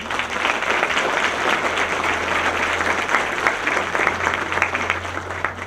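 An audience applauds the staff at a conference on international personal data protection, steady dense clapping from many hands filling the room without a break.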